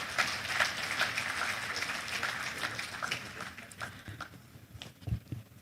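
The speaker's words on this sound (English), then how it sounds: "that round of applause is anemic" Conference audience applause at a Nigerian Economic Society annual conference, thin, scattered clapping fading toward the end, with faint voices underneath.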